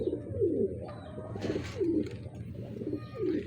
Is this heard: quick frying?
no